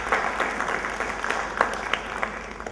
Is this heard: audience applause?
yes